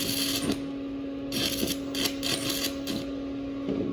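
Stick welding with a 6010 rod on a butt joint in the 2G position: a steady electrical hum underlies crackling, sputtering arc bursts that come in irregular clusters, close and moderately loud, with no talking.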